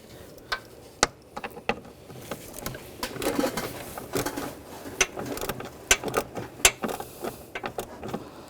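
Ratchet with an 8mm socket backing out a bolt from a fan shroud bracket on a 2008-2012 Jeep Liberty 3.7L V6, sharp clicking pawl strokes in irregular bursts, close and fairly loud, no talking.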